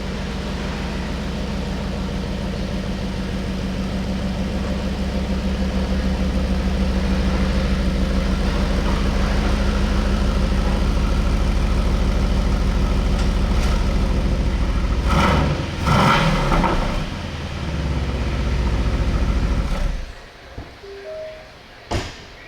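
A 2023 Aston Martin Vantage base idles with a steady low rumble as it is moved, holding a constant engine drone for about twenty seconds before a few brief door-like clunks near the end.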